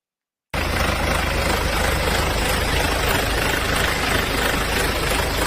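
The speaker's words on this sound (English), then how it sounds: "It sounds more like a vibration." A BMW diesel engine with a worn timing chain idles before the repair, starting abruptly after a brief silence and then running as a steady, close, vibrating rumble with a rough knocking clatter.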